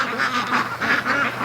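Free-range ducks quacking on a farm, a close, loud run of repeated nasal quacks in a steady rhythm, several calls overlapping, with no talk over them.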